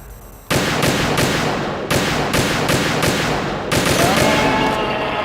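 Dense video-game gunfire from a PSG-1 sniper rifle in Metal Gear Solid 2, loud and close, with sharp bursts at roughly one-to-two-second intervals in a continuous barrage and no voices.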